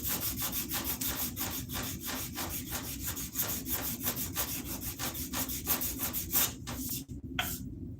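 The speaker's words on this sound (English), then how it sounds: "So I want to clean up these rasp marks big time." A wooden axe handle being sanded to smooth out rasp marks: steady rapid back-and-forth rubbing strokes, close and loud, running continuously for several seconds before a brief pause near the end, with no talk.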